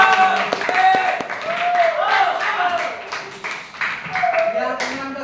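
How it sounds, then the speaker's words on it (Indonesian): A seated group clapping hands together at an Indonesian talk, the claps blending under voices and tonal sounds that rise and fall throughout, moderately loud and uneven rather than a clean burst of applause. "Tepuk tangan semua dulu"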